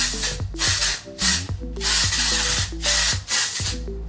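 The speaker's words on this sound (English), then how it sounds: "I am going to do one mist of the Ouai texture spray all throughout Celine's hair." A hand pump of Ouai texture spray mists onto hair in several quick, crisp hissing bursts, roughly every half second, close to the microphone, with faint tonal music underneath.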